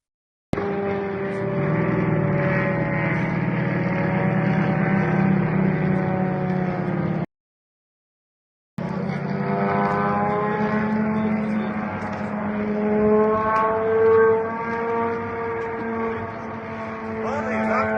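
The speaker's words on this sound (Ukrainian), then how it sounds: "Щойно побачили повітряний бій, який вів легкомоторний літак Як-52 проти шахеда." A Yak-52 light piston aircraft fights a Shahed drone; a steady droning engine note with strong harmonics runs throughout, briefly cut out, then returns with a rising, shifting pitch as it manoeuvres.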